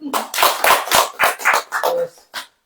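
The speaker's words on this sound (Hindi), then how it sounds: "ताली बजाएं" Hands clapping at a church birthday celebration during a sermon: a quick, steady run of sharp claps close by, with a faint voice mixed in briefly near the end.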